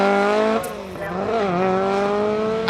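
Ari Vatanen's Allied Polymer Ford Escort rally car pulls away from the feature stage at a rally day, its engine note climbing and dropping through the gears in a loud, sustained drone up close.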